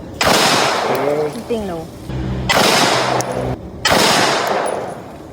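Three sharp, loud gunshots from a TAC Ultra 9mm pistol ring out at an outdoor shooting range, evenly spaced about a second and a half apart, with people talking between the shots.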